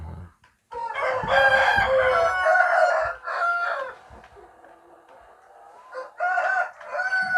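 KUB free-range village chickens cluck nearby while a rooster crows, bursts of calls separated by short quiet gaps, with no talking.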